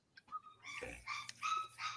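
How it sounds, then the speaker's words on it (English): A distressed puppy, one of a litter of thirteen, whimpers and yips somewhere nearby at a live community gathering, thin high cries coming in short repeated bursts over a background hum. "unhappy puppy somewhere"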